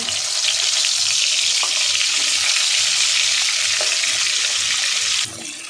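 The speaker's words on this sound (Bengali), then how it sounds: "দেখুন বন্ধুরা, মাছের মাথা ভাজা হচ্ছে" Rohu fish head frying in oil, a loud continuous sizzle with spluttering and light stirring that falls quieter near the end.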